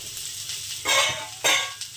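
Beetroot fries in a pan for a tangy chutney, giving a soft sizzle with two loud bursts of stirring and scraping, close up and without speech.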